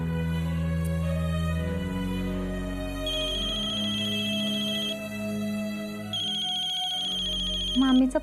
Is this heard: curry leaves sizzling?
no